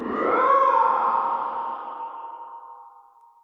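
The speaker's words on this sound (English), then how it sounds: "one of my favorite things that clip distortion does is that on that tail, on that fade out, you can kind of hear these weird otherworldly artifacts going on" A monster sound effect for a video game with clip distortion applied swells to a loud, ringing tone, then fades out over a long tail with faint warbling artifacts.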